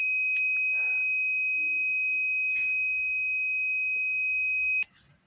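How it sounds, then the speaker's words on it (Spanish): Temperature sensor alarm in a home automation lab gives a loud, steady high-pitched electronic tone that holds for about five seconds before cutting off, with faint background sounds. "Y la alarma sigue activa porque la temperatura del laboratorio va"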